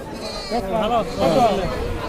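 Mother goats at a village livestock market (Deohata haat, Tangail) bleat twice in quick succession, close by and clear over the crowd's background chatter.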